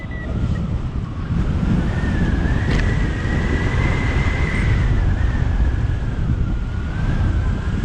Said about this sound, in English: Really hard work pushing back into wind.